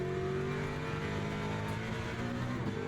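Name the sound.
Ford Mustang race car engine in video game Le Mans Ultimate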